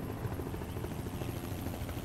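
A helicopter flies overhead in Project Zomboid with a loud steady rotor thump and engine roar filling the whole stretch, no talk over it.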